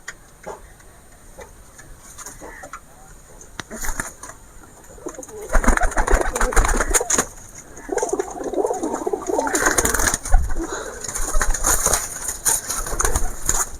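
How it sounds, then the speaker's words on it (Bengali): Pigeons, including a Jiria pigeon, coo in soft, low, throaty bursts close by, with ticking and rustling sounds mixed in and no talking. "এইটা আমার জিরিয়া পায়রা"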